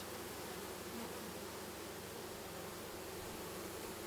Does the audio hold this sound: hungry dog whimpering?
no